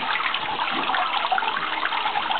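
Steady rush of water pouring through a homemade float valve on a maple syrup evaporator rig, continuous and fairly close, with no talking.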